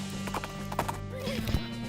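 Horses clip-clop in the Western-themed video game West of Loathing, a quiet run of hoof clops with a brief whinny, heard on their own with no talking.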